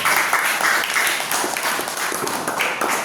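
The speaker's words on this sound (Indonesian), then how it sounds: "Tepuk tangan dulu buat Padir." A classroom of students claps for a classmate called to the front for a robot challenge, a brief, steady burst of close applause filling the room.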